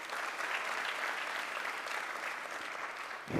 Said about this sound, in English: I think we must do one more round of applause for Mr.